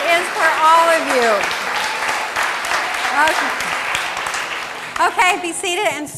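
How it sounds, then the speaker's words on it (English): Congregation applause at a Sunday church service fills the room steadily, with voices speaking and calling out over the clapping throughout. "This applause is for all of you."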